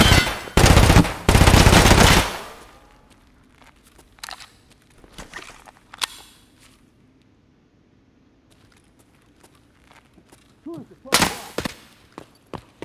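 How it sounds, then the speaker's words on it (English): Automatic gunfire in Escape from Tarkov on The Lab map, with an HK MP7A2 submachine gun involved: loud, sustained bursts open the scene, followed by scattered quieter shots and movement, then another close, heavy burst. "Who is shooting at me?"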